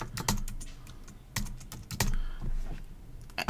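Computer keyboard tapped in an uneven run of crisp, close keystrokes while a password is entered, with short pauses between clusters of presses.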